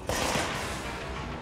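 A single loud, sustained burst of gunfire in the game Control, dense and close, with its crackling decay filling the short moment.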